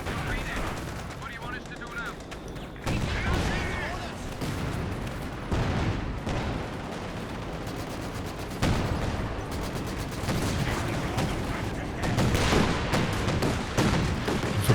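Rocket artillery barrages in Company of Heroes 2, a 4v4 match, with dense overlapping explosions and gunfire crackling continuously, loud and busy throughout, several sharper bursts standing out, mixed with battlefield noise and possible voices.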